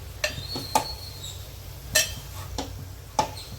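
Stuffed brinjals browning in a pan are stirred now and then, a utensil clinking and scraping against the metal in a few separate sharp knocks, close and fairly clear, with a low hum underneath.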